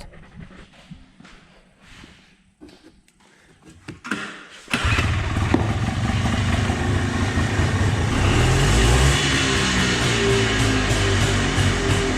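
A yellow Polaris ATV with a freshly cleaned carburetor sits in a garage. It cranks briefly, catches near the five-second mark and settles into a loud, steady, close running idle with no talking.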